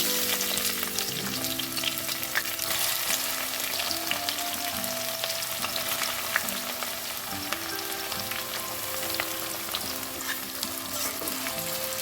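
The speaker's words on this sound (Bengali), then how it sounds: "এদিকে পেঁয়াজটা ভাজা হতে থাক" Onion fries in oil and ghee with a steady, continuous sizzle and hiss, close and even throughout, while soft music plays in the background.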